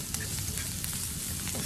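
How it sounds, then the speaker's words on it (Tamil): Onion, dried red chillies, garlic and carrot sautéing in hot oil, a steady close sizzle with faint crackles and stirring, no voices. "இவங்களெல்லாம் நல்ல எண்ணெயில் வதங்கிடுங்க மக்களே."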